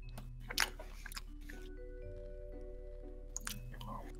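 A person eats food held on their lap close to a gaming headset microphone, with soft, intimate chewing and a couple of crunchy bites over a low steady hum.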